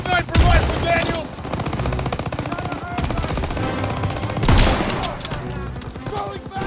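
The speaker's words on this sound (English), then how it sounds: "Everyone open fire!" Sustained rapid machine-gun and rifle fire rattles through a Call of Duty WWII battle, dense rhythmic bursts with louder blasts near the start and past the middle, and soldiers shouting beneath the shooting.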